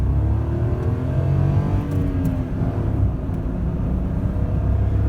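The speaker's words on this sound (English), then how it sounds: "we'll just show you an acceleration run here. Here we go, first gear." A 2001 Honda Insight with IMA hybrid assist accelerates hard in first gear, its engine drone loud and steady from inside the car and rising in pitch as it pulls.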